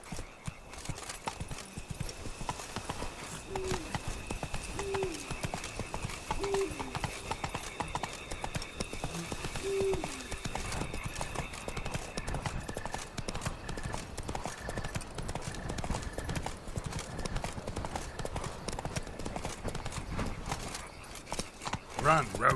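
Roach, the horse in The Witcher 3, clip-clops steadily through the whole stretch with an occasional short whinny, a game-world ambience beneath the hoofbeats.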